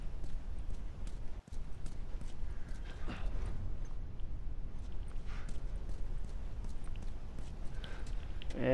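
Steady clip-clop of horse hooves walking at an even pace, moderately close, over a soft ambient background with occasional faint clicks, in the video game The Last of Us.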